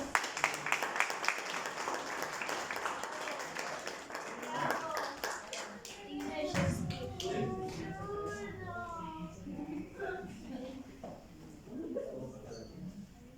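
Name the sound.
applause for the children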